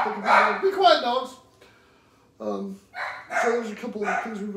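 Dogs bark and yip in close, loud bursts, with a short lull partway through; a voice seems to blend in with the barking.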